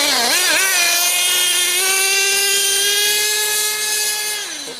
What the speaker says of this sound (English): this is the first tank at full throttle now.